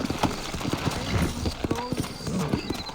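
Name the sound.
horses trotting in Red Dead Redemption video game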